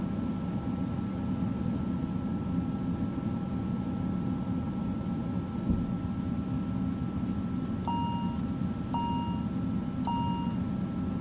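ATR 72-600 turboprop airliner engines in Microsoft Flight Simulator, a steady droning hum with a tonal whine, with three short repeated cockpit alert beeps sounding toward the end.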